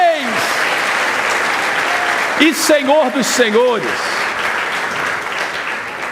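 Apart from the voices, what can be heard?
congregation applauding in church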